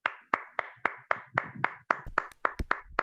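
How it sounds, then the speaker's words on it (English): Online meeting participants at a Toastmasters club chapter meeting clap in a steady run of sharp, close hand claps, roughly three per second, growing denser and overlapping toward the end as more people join in. "give a round of applause to the women and the men and all the allies of women and men"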